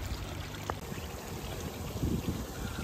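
Water pours and trickles while a Marusei Koi Farm Hi Utsuri koi is moved to a transfer container. A close gurgling flow swells near the end, with a small splash early on.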